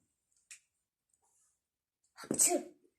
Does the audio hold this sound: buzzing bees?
no